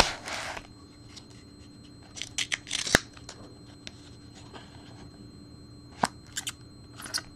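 Scissors cut open a card mail package in short close snips and sharp clicks, with brief pauses between cuts and no talk.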